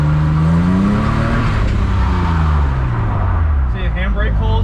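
A BMW drift car's engine revs and drones, its pitch rising then falling across the run, loud and close, with people talking over it.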